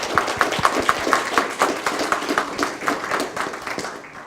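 Conference audience applauding after a keynote: a lively burst of many hands clapping with sharp individual claps near the front, steady throughout and tapering slightly at the end.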